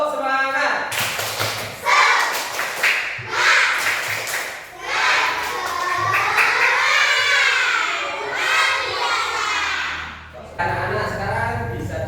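Classroom of children performing a rhythmic spirit clap chant, with loud shouted group chanting and bursts of synchronized clapping in several energetic phrases, a teacher's voice heard between them.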